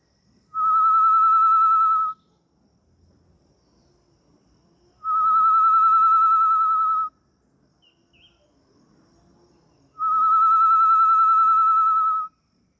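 Three long, level whistled notes from a macuco game call played uncovered, imitating the tinamou's cry. They are loud and close, evenly spaced, with faint room noise in the gaps.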